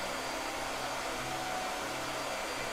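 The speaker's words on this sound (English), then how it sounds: "blow dryer" A blow dryer runs steadily at close range in a house, a constant loud breathy whoosh with a faint motor hum, unbroken for about three seconds with no voices.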